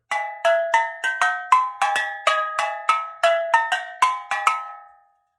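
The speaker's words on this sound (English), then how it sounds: "We call it a steel drum, and you'll notice it makes a little bit different sound." A bright metallic Caribbean steel drum plays a quick sequence of ringing notes, each struck tone decaying briefly, loud and close, with no voices.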